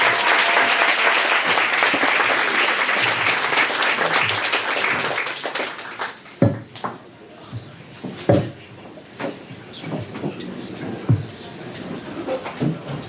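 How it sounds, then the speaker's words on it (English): An audience at a book launch gives a round of applause, a dense, loud burst of clapping that thins into scattered claps and thumps as it dies away. "Let's give her a round of applause."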